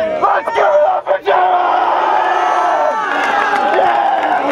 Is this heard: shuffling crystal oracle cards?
no